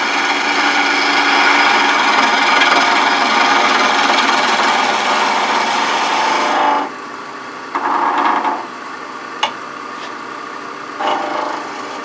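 Wood cut by a turning tool on a lathe while shaping a multi-axis twig pot, the tool biting into the lower third of the spinning piece. A loud, steady, close grinding rasp lasts about seven seconds, then gives way to quieter, intermittent scraping.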